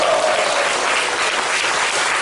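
Hands clap together in a sustained, even burst as worshippers applaud during a Korean church's celebratory service for its 100th overnight devotion, with a full room of clapping heard up close and alone.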